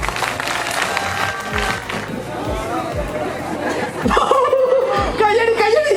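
Audience at a Mets School of Engineering event in Mala claps, with chatter and laughter mixed in, rising louder near the end as a sustained tone and voices come through.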